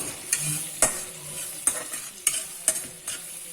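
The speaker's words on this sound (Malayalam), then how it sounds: "ബട്ടർ ഉരുകി കഴിയുമ്പം നമുക്ക് ഈ പച്ചമുളക് ഇടാം." Chopped green chillies fry in about 50 grams of melted butter for green chilli fried rice, a soft steady sizzle broken by several sharp scrapes and taps of a spoon stirring the pan.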